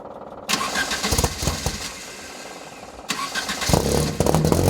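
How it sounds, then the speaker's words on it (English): A 1967 Alfa Romeo GTV four-cylinder engine with a free-flowing, street-legal muffled exhaust cranks and catches, then idles and revs in loud bursts close by, with no talk over it. "I love the exhaust note. It sounds fabulous for a four-cylinder."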